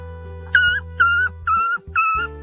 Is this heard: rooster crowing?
no